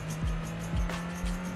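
A Mazda Miata races in the Gran Turismo 3 video game, its engine droning steadily while short tire squeals sweep repeatedly across the sound.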